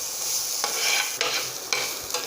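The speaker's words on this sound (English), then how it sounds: "We are frying our onions." Onions frying in a pan as stuffing for restaurant-style chicken dosa, a steady close sizzle broken by several scraping stirs, with no talking.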